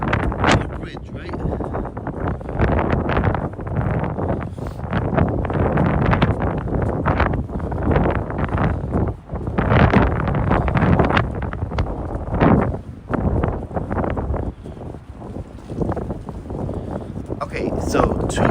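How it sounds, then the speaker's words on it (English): Loud, constant wind buffeting against a microphone in the middle of a Tokyo bridge, rumbling and gusting the whole time with a voice talking over it. "So 2, so windy."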